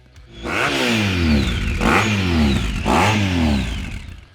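A Honda ST1300 touring motorcycle engine revs up hard three times in quick succession, each rising whine dropping back before the next, close and loud.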